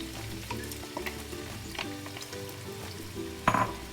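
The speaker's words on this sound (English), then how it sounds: "Once the oil is hot, we're adding in the onions." Onions frying in hot olive oil for a Punjabi lamb mince, potato and pea curry give a steady close sizzle with occasional stirring clicks and a louder scrape near the end, no talking.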